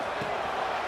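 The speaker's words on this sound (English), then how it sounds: "And the crowd really making some noise now" Football stadium crowd during an LSU game near the goal line, a dense, sustained roar of many voices from a distance, steady and without distinct peaks.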